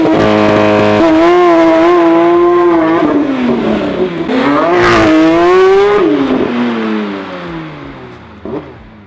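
A Porsche 992 GT3 RS on its factory exhaust revs hard and close, a loud high-pitched engine note rising and falling through several sweeps before settling and fading, with no talk over it.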